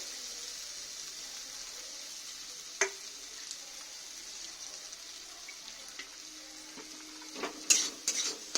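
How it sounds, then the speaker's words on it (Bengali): Spices and turmeric sautéing in a little oil for a soybean dish, a soft steady sizzle broken by a few sharp scraping clinks of stirring, busier toward the end. "একটু ভালো করে আমি কষে নেব সব উপকরণগুলো"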